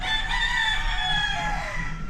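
Roosters crow in a long drawn-out call among clucking chickens in a backyard in Cauayan City, Isabela, fairly loud over a steady low hum, no talking.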